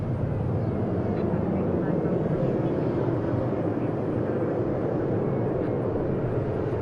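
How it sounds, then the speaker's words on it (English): An American Airlines Airbus A321 bound for San Diego departs DFW International Airport, a steady broadband jet roar held at a constant level throughout, with no talk over it. "Next departure looks like it'll be American 1789 and A321 to San Diego."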